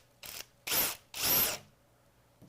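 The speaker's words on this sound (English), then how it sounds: "then we'll drill again at the ends of the line that we made." Power drill boring into wood at the ends of a marked line, three short bursts of whirring, the later two longer and louder, close up with no talk.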